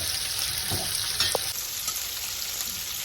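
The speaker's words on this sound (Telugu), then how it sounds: "అల్లం పేస్ట్ వేసుకుంటాం. ఫ్రై అవుతే వేసుకోవాలి." Ginger paste frying in oil for Andhra-style chicken pulao, a dense, steady hiss of sizzling close by with a brief stir and clink, no talking.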